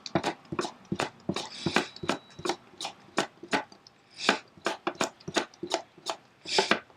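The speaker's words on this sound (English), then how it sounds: "So we're just going to slice these really thin." A knife chops quickly and repeatedly through vegetables on a cutting board, slicing them thin for quick pickles; the crisp, close taps fall in a fast, fairly even rhythm with no talk.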